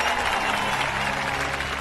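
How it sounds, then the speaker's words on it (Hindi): Audience applause in a Hindi-dubbed action movie, a dense, steady wash of clapping from a crowd, fairly loud and continuous. "ताली बजाओ"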